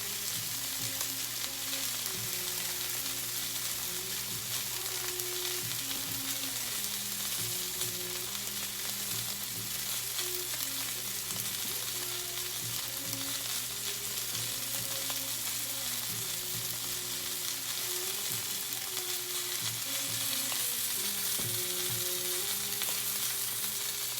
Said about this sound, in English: You can see that good sear.